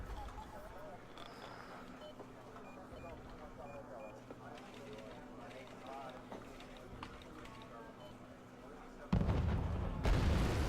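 Distant gunfire and artillery pound units in a tank-era strategy video game, a faint, continuous rumble of shots and blasts under steady commentary, ending in a louder burst of noise.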